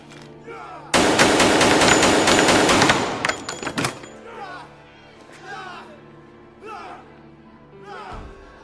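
Loud rapid automatic gunfire bursts out in a dense volley lasting about three seconds during an action scene in a martial arts tournament fight film, then stops, and voices talk quietly afterward.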